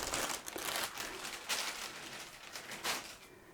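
Close, loud crinkling of a plastic bag in bursts of rustling and crackling as it is handled, with no one speaking.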